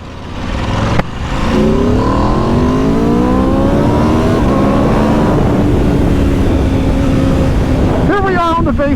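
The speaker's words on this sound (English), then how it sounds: "here we are on the base RSV4. Still has the same engine as the factory, 1099cc, beautiful 65-degree V4" A 1099cc 65-degree V4 on a 2021 Aprilia RSV4 motorcycle revs up loud and close, its pitch climbing steadily over several seconds, with a sharp rising burst near the end and wind noise throughout.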